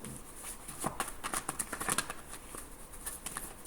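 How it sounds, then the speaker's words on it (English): Tarot cards being shuffled close by: quick riffling and flapping bursts of card edges in an uneven, fluttering rhythm at a moderate level, with no speech. "Sorry about the shuffling."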